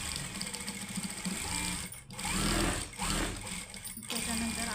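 Sewing machine running a straight seam on a blouse, a steady close mechanical whir with a quick rhythmic stitching chatter that briefly dips and resumes over about five seconds.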